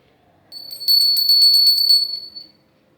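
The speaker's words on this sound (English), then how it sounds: "What is the sound of that bell?" A small hand bell rung in a classroom, a quick run of bright, clear metallic rings about a second and a half long, close and alone, starting after a short quiet and fading out.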